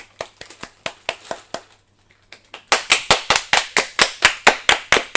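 A few people clapping in a small room, sharp distinct claps in loose bursts, a short pause, then a louder, steadier run of claps close by.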